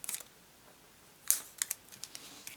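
Scissors snipping through tape on a handmade pop-out window card, a few sharp, close clicks and snips in quick succession after a brief rustle, with no talking.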